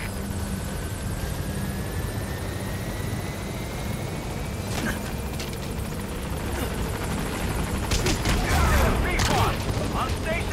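A helicopter arrives for pickup in Metal Gear Solid V: The Phantom Pain, its steady rotor roar filling the whole stretch, loud and close, while gunfire crackles and a radio voice speaks over it.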